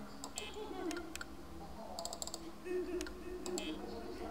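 Mouse clicking while playing the video game Five Nights in Anime 2: sharp, quiet clicks in small clusters over faint background game sounds. No speech is heard.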